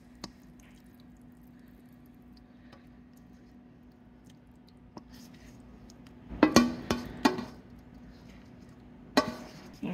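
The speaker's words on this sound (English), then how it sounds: "We're going to be pouring all of our chicken pot pie mixture into our skillet with our pie crust." Thick chicken pot pie filling is poured from a container into a pie crust in a skillet, making soft wet squishing and plopping sounds with a few clinks, quiet and close.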